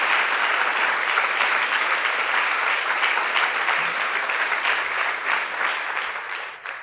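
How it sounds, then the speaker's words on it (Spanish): A church congregation claps together in sustained, dense applause during a sermon, loud and even throughout before tapering slightly at the very end. "Dale un aplauso con la esperanza."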